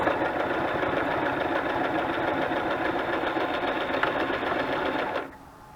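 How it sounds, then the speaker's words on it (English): A sewing machine stitches burlap and lace banners with a loud, continuous close-up whir that runs steadily for about five seconds, then stops abruptly. "Assembly line kind of sewing, it works really nice."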